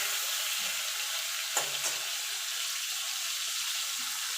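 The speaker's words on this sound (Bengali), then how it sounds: "এবার চিংড়ি মাছটা একটু ভেজে নেব" Prawns frying in hot oil in a pan, a steady broadband sizzle running throughout with a brief sharper burst of spatter near the middle, close and fairly quiet.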